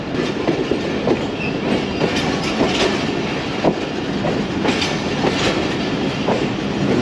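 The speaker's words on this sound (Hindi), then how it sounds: "दो मिनट के स्टॉप के बाद ट्रेन हमारी निकल चुकी है लाला मूसा जंक्शन से।" The Tezgam passenger train of Pakistan Railways pulls out of Lala Musa junction, heard from on board with loud continuous rolling rumble and steady clickety-clack of wheels over rail joints.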